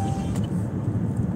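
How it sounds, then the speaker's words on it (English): A car passing close by on a road, a loud steady whoosh of engine and tire noise filling the moment, with no speech over it. "This car here made me lose my train of thought"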